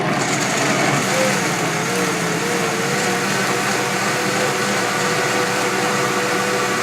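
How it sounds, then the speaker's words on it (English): A kitchen blender whirs loudly and steadily as it purees a plant-based French white sauce, a continuous close motor drone from start to finish with no one speaking. "Wow, that's a good blender."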